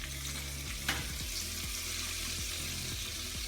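Flour-battered food frying in oil gives a steady, close, fairly quiet sizzle, with soft clinks and stirring knocks spaced irregularly through it and one brighter tap near the start.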